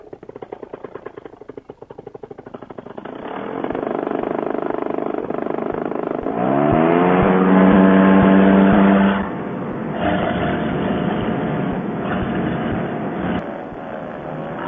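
Paramotor trike engine during takeoff in a rear side wind, a loud, close droning roar that swells and rises in pitch as it revs, then holds steady with no talking.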